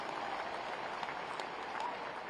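Faint, steady applause from a poetry event audience, a thin wash of clapping heard from a distance for a couple of seconds.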